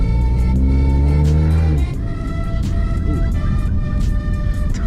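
A car pulls away and accelerates on a dark street, engine revving up steadily with a rising pitch before settling into a sustained drone, close and loud with no talk.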